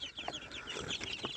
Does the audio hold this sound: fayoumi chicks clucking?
yes